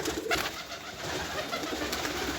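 A rescued pigeon on a balcony coos in soft, close, repeated low calls, with light ambient background noise around it.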